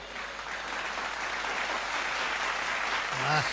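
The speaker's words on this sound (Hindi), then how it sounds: "ताली सब बजाओ तब ये हाथ नीचे आएगा" A crowd at a hasya vyang comedy poetry recital claps in continuous, even applause, and a voice briefly cuts in near the end.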